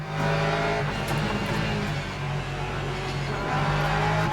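Porsche and Lexus race cars fight wheel to wheel in the Le Mans Ultimate racing game, engines droning loud and steady with shifting pitch and a faint tire squeal, no talk.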